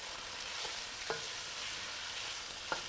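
Zucchini and Italian long hot pepper turned in a hot pan: a steady close sizzle with a few sharp spatula scrapes scattered through it, no talking.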